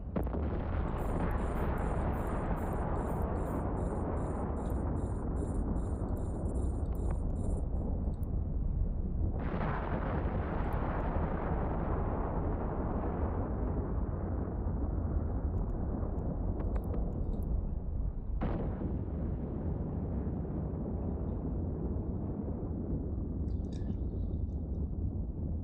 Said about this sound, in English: Drown them in missiles.